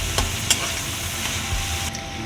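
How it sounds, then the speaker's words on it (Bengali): Shrimp frying in a wok over a gas flame, cooked to a medium fry, with a steady close sizzle and a few sharp stirring clinks near the start. "চিংড়ি মাছটাকে আমি হালকাভাবেই ভাজবো, বেশি কড়া করে না, মিডিয়ামভাবে।"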